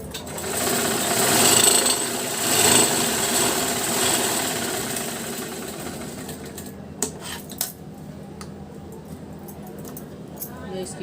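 Sewing machine stitching a blouse, a steady mechanical whir for the first several seconds before stopping, then sparse clicks and fabric handling as someone speaks.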